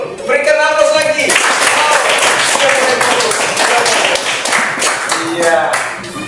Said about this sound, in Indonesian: Berikan aplaus lagi.